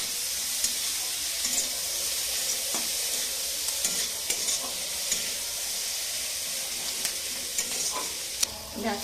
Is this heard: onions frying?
yes